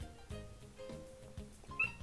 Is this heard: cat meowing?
yes